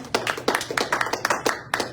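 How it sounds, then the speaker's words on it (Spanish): A church congregation claps in a quick, uneven rhythm, about a dozen sharp distinct claps close by with little else underneath. "Denle el aplauso al Señor."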